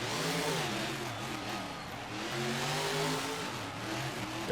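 A racing truck engine revs hard on an indoor dirt track at Ford Field in Detroit, rising and falling in loud sweeps, with crowd and arena noise filling the background.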